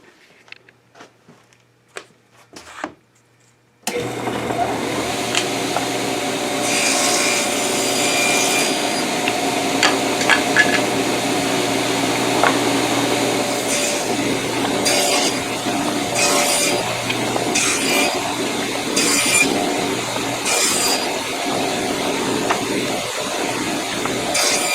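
Cherry wood spice box pieces being trimmed on a power saw: a steady loud whirring drone with repeated cutting passes, starting abruptly after a few seconds of quiet shop noise and continuing throughout.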